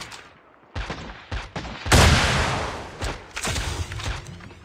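Bursts of gunfire in Call of Duty: Mobile battle royale crack and boom in quick succession, with a loud blast near the middle and rapid shots following.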